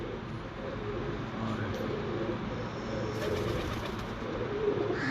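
Breeder pigeons coo softly in the background, low murmuring calls under a steady ambient hum.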